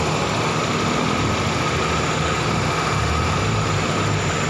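A Toyota Corolla Big Body GLi automatic car engine idles steadily with a constant low hum and even drone, close by, with no talking.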